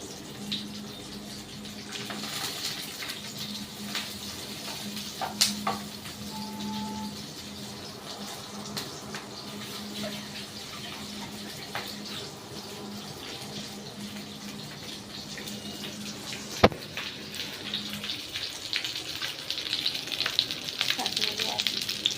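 Food is dropped into hot oil and fries with a steady moderate sizzle and hiss, faint clinks and one sharp knock partway through, growing busier and crackly toward the end.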